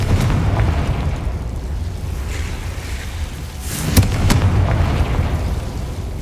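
A Confringo fire-blast spell bursts with a sharp explosive boom in the Hogwarts Legacy video game, a single loud impact near the middle over a steady rumbling game soundscape.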